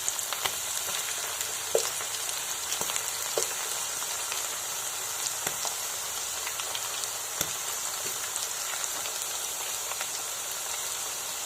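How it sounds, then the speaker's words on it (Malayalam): Sliced raw plantains fry in hot oil for Kerala banana chips, giving a steady, faint hiss of sizzling with occasional small pops and crackles throughout. "ഇതിലേക്ക് നമ്മൾ ഈ ഏത്തയ്ക്ക നേരത്തെ കട്ട് ചെയ്ത് വെച്ചിരിക്കുന്ന ഏത്തയ്ക്ക നമ്മളിതിലേക്ക് ഇട്ട് ഒഴിക്കുകയാണ്."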